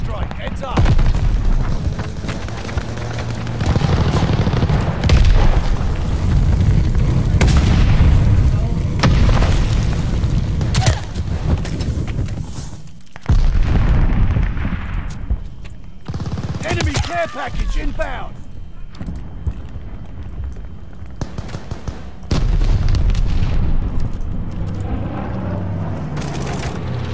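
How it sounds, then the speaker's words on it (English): Glide bomb explosions and heavy gunfire in a video game battle, with loud repeated booms and rattling bursts rolling almost continuously over nearly half a minute, broken by a few brief lulls. "Friendly sending a glide bomb."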